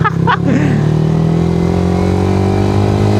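A motorcycle engine drones loudly and steadily while riding, its pitch climbing gradually as the bike moves along, with a brief rougher burst at the start.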